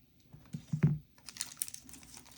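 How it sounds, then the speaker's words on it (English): Soft crinkling of a plastic parts bag being snipped open with scissors during a 3D printer assembly: a couple of small snips, then a light rustle of plastic, quiet and close. "Grab my scissors here to cut that bag open."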